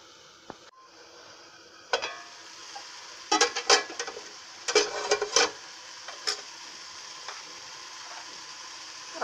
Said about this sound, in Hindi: मैं इसको थोड़ी देर ढक के पकाऊंगी, जो इससे हमारे टमाटर गल जाएंगे।